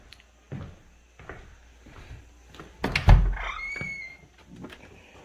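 A door opens or closes in a historic house, near the basement, giving a heavy wooden thunk with a brief rattle and creak, preceded by a few softer knocks and footstep-like bumps in a quiet room.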